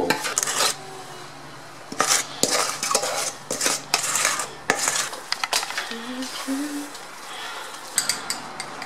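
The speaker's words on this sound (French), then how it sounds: "Nous allons mélanger notre préparation." A spoon clanks and scrapes repeatedly against a pot while African black soap mixture is stirred, irregular knocks over a low bubbling background, with a faint voice briefly audible.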